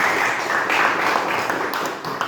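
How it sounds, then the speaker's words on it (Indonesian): Classroom applause during a teaching performance assessment at a university in Makassar, a steady broadband wash of clapping hands lasting a couple of seconds with no speech over it. "Berikan tepuk tangan."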